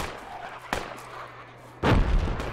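Gunfire in the military shooter Project Reality: two separate sharp reports, one brief crack near the start and a louder, heavier blast toward the end, over a low ambient background.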